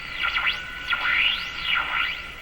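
Swooshing whooshes on an Electrohome Cosmic tube radio: repeated rising and falling sweeps, about four in quick succession over a steady tuned-in hiss, fairly loud and close, with no voices.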